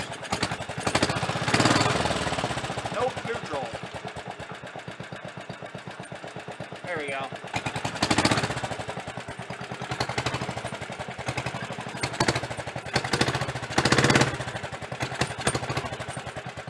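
Avenger 400 ATV engine, from the first ATV ever made, running under its own power after decades, with a steady low mechanical chug and clatter and louder revving surges near the start, the middle and the end.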